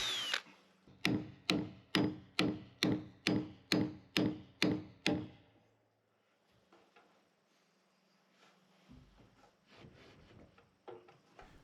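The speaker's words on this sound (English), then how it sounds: "When you're up a ladder driving a 12-inch spike with a hammer, you're best to have your safety glasses on." A steel hammer drives a 12-inch framing spike into a timber beam on an off-grid cabin build, ten sharp evenly spaced ringing blows in a row, then softer scattered knocks and handling noise.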